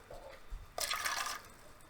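Water splashes into a measuring cup, about a third of a cup for homemade chalk paint with plaster of Paris: one short, quiet pour lasting roughly half a second after a soft handling sound.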